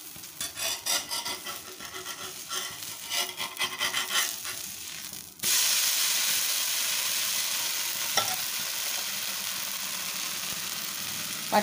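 Dosa roasting in butter on a hot pan: scraping and rubbing strokes at first, then a steady, loud broadband sizzle that holds close and continuous to the end with no talking.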